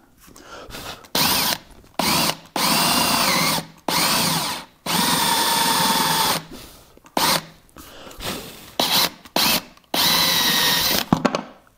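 A power drill bores into maple wood about an inch deep in repeated loud, close bursts of whirring, starting and stopping every second or so, with short pauses between runs and no talk.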